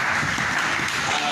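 A church congregation claps together in a steady, dense burst of applause, with voices mixed into the noise.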